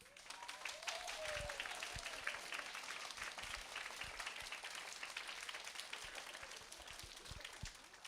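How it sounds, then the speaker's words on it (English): A crowd at a kindergarten step-up graduation ceremony at Merrick Academy claps continuously, a dense, fairly distant wash of applause with a few louder individual claps and faint voices beneath. "give them the biggest round of applause"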